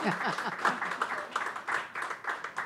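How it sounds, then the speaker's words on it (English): Audience applause at a book launch event, a fairly faint patter of clapping rising and falling in waves, with voices audible underneath. "A round of applause for Rakesh ji."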